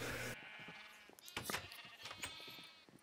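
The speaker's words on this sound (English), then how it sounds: "There's a lot of baby sheep now." Several sheep in Minecraft bleat in a crowded flock, with repeated overlapping game-style bleats and some louder calls.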